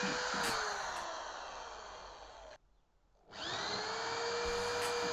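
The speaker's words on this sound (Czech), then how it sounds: "Tady do pantů vyvrtám šestky díry a použiju vratové šrouby" A power drill bores 6 mm holes through gate hinges for carriage bolts on a small pigsty door, whining loudly and steadily with a brief pause midway before the drilling resumes.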